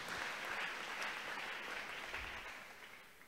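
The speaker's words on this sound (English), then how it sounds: "Clap your hands." Church congregation clapping hands during a sermon, a faint, distant, even wash of applause that slowly tapers off.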